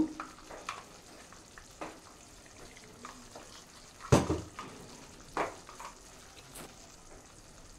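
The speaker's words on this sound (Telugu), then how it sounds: "కొన్ని శనగలు తీసి పక్కకు పెట్టుకొని గ్రైండ్ చేసి ఆ పేస్ట్ ఇక్కడ వేసేస్తున్నాను" Ground chickpea paste dropped into a hot pan for black chana masala curry, giving faint frying and a few soft spoon scrapes and clinks, with one sharper knock midway.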